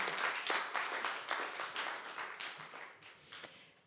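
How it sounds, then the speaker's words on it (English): Audience at a pub arts show clapping for an elderly woman, a short burst of applause that starts strong and thins out over a few seconds. "Round of applause for Nan."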